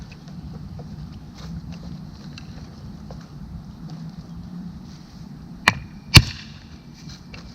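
A metal hammer taps shackles onto a sailboat sail. Two sharp, bright metallic knocks come close together near the end, over a quiet outdoor background.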